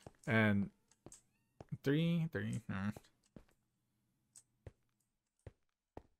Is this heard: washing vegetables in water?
no